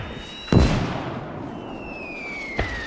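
Light mortar barrage in the WWII strategy game Gates of Hell: Ostfront, with two sharp distant blasts about two seconds apart over a whistling shell streak and low rumbling ambience.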